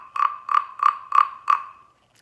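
Wooden frog guiro played as a percussion instrument, five evenly spaced croaking rasps struck in a steady rhythm, close and clear, then silence.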